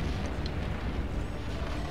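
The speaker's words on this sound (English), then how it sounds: "Okay, I guess I can explode that with impunity." An explosion in the Robocop video game booms as a loud, sustained low rumble, with a couple of faint higher tones flickering above it.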